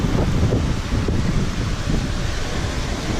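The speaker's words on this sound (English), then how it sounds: "40 knots of wind" Strong wind of about 40 knots roars steadily over a sailboat passing the south tip of Sri Lanka, a loud, continuous low rush of buffeting with sea noise mixed in.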